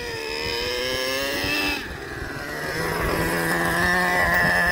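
A Traxxas TRX 3.3 nitro RC engine in a Slayer Pro 4x4 revs at full throttle during break-in, a loud, buzzing high-pitched whine that dips briefly and then climbs again.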